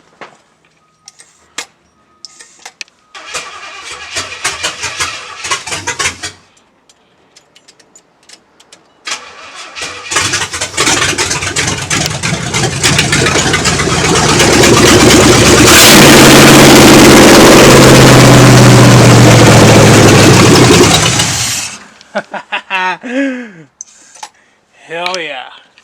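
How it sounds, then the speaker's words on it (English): A 1969 Chevrolet Impala with no throttle cable fitted cranks over in bursts, then fires up and runs loud and rough for about ten seconds before cutting out, with voices talking before and after. "I got to hear this engine run for a few seconds"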